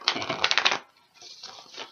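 Dakini Oracle cards being shuffled by hand, a quick burst of crisp riffling clicks followed after a short pause by a softer second run of card slaps, close and alone without talk.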